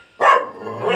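A dog barks loudly and close, one sharp bark followed by a sustained yelping tail, heard alone in a village household setting.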